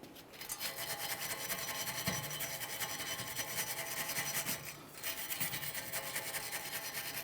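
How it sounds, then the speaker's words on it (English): Sandpaper or a wire brush scrubs the mating surface of a wheel hub during a rear brake job on a 2014-2018 Mazda 3, a steady, close rasping rub that runs nearly unbroken, with a brief pause near the five-second mark. "For that, you can use some sandpaper or wire brush"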